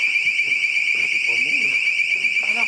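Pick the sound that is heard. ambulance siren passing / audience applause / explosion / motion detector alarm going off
motion detector alarm going off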